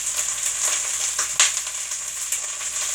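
Cauliflower toasting in a pan for cauliflower spaghetti gives a steady, close sizzle with faint crackles and a small pop of stirring, with no one talking.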